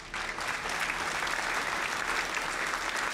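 Steady, dense applause from a crowd in the video game Diablo Immortal, continuous and fairly loud throughout with no talking.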